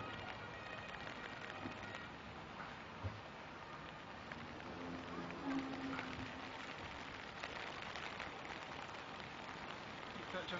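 Steady rain pattering on a hard surface at a temporary bus garage during the 1994 Kirky floods, a dense continuous hiss with faint background murmur and occasional soft knocks.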